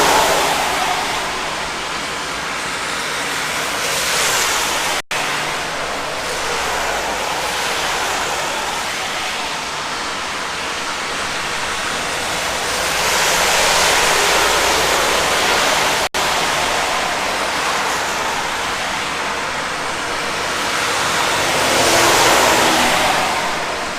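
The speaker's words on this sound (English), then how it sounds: "I feel like I have to talk over the traffic." Loud, steady road traffic roars at a Plymouth roundabout on a stormy day, a continuous wash of passing vehicles that swells and fades in long waves.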